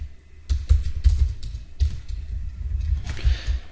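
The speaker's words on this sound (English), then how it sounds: "You can start typing." Keystrokes tap on a computer keyboard in an online Zoom teaching lesson, a quick irregular run of clicks close to the microphone with brief pauses between bursts.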